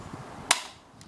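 A single sharp BB gun shot rings out close by, a brief crack with a faint softer echo or impact a moment later, against a quiet background.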